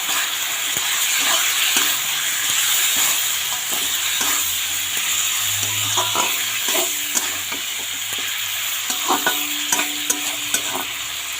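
Chicken pieces seasoned with salt and turmeric powder fry and crackle in a pan while being stirred, a continuous close sizzle broken by repeated scraping and knocking strokes.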